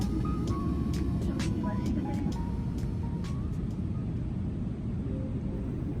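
ANA business-class airliner cabin just after takeoff from Tokyo, a steady broadband engine and air rush filling the cabin, with faint chimes and brief voices over the drone.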